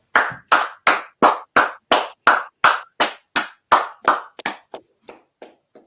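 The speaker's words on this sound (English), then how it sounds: "Let's clap it up." A class claps in unison, about a dozen sharp, evenly spaced claps, loud and close, tapering into a few softer, scattered claps before fading out.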